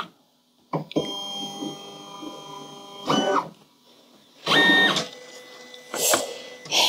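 A craft cutting machine runs a depth detection pass. Short mechanical whirs and buzzing motor bursts start and stop in a stop-start rhythm, with quiet pauses between them and no talking.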